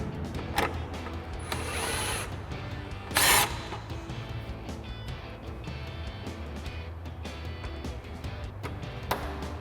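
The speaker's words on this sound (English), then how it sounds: "we'll get our push clips in and our 10mm screws back in with our 10mm socket." Power-tool whirs from a 10mm socket driving 10mm screws during a Barricade HD2 front bumper install on a 2016-2023 Toyota Tacoma, short bursts over low background noise with occasional clicks.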